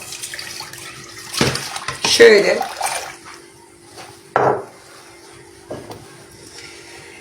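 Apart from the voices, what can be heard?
milk pouring into pot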